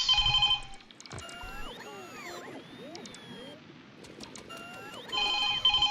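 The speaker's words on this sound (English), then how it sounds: "Phone's ringing." A telephone rings in a room, two bursts of electronic ringing at the start and end with quieter ambient sound and faint background tones in between, no talk over it.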